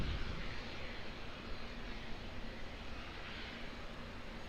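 An American Airlines jet departs Auckland Airport, its engines producing a steady, broad, distant roar that holds evenly throughout with no talk.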